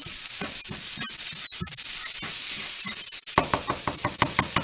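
Chorizo frying in a pan as its fat renders out, a loud, steady sizzle and hiss that runs throughout. Occasional knocks and stirring clicks come through, and a faster run of crackles builds near the end.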